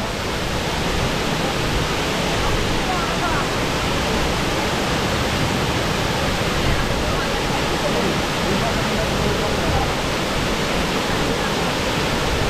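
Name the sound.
water flowing out, waterfall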